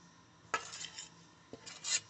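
Ghetkochu greens, cooled after frying, ground into a paste by hand on a stone, with two sharp scraping strokes standing out over a low, quiet rubbing and grinding.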